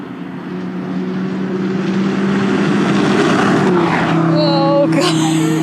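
A 2004 Volvo V70R five-cylinder engine accelerating hard in second gear, a loud, steady, rising drone heard from inside the car, with a shift near the end.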